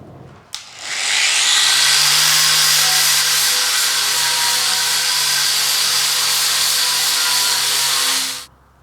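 A power tool cuts out a metal piece for a Deutz 6006 tractor, spinning up sharply into a loud, sustained high whine that runs several seconds before stopping abruptly, close and alone.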